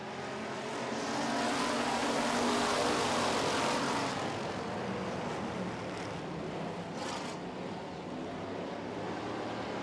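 Street stock race cars at a July 4 heat race accelerate after the green flag with a broad, roaring engine din that swells and then holds steady.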